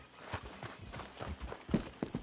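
Horse hooves clip-clop in the video game Red Dead Redemption 2, a quiet, uneven series of soft thuds from a few horses walking on the ground.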